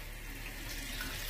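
Tap water runs steadily into a pot for cooking quinoa, a soft continuous broadband hiss of pouring water with no talk over it.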